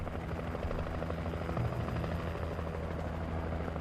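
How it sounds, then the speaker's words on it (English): A helicopter in the video game Alan Wake hovers close by, its steady chopping rotor and engine drone loud and continuous for the whole stretch with no voices. "I appreciate that helicopter."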